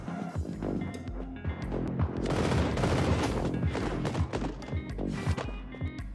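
Continuous automatic gunfire from an auto-shooting weapon in a free mobile action game for Android and iOS, a dense, loud barrage of shots and impacts mixed with game sounds and no voices.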